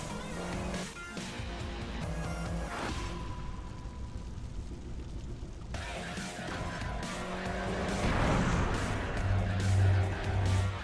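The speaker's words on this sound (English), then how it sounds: "I was wondering, why is there a car sound here?" Car engine roar with tire squeals and skidding from a video ad playing during a Neverwinter game session, continuous and swelling louder toward the end.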